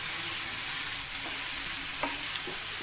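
Onions fry in a pan and are gently stirred, giving a continuous soft sizzle with a few light scrapes of a spoon against the pan.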